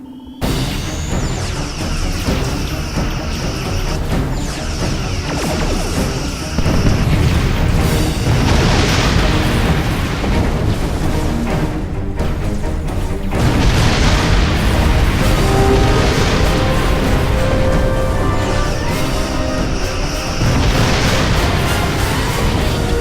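Starship combat in the PC space game Star Trek Online, with heavy booming explosions and weapon bursts rolling continuously over a dense, loud soundtrack, surging in intensity in repeated waves.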